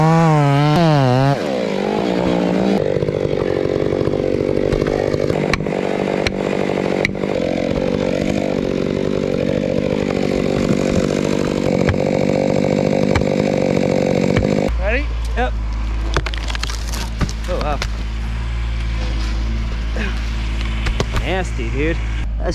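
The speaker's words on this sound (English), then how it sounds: "Us tree guys give the saw extra brat before we turn it off." A chainsaw roars close by while a maple tree is bucked, the engine surging and dropping through cuts, then revved hard at the end with a deep steady drone; someone talks over it.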